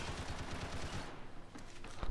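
Rapid gunshots from Max Payne 3 multiplayer, a quick rattling string of shots that stops partway, then a couple of isolated louder shots, fairly close with no speech.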